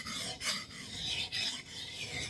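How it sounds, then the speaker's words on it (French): A Schrade 7-inch knife is drawn across a 1000-grit sharpening stone in close, rhythmic rasping strokes, each a gritty scrape with brief pauses between, quiet and alone. "Le grain 1000, je commence à affûter le couteau."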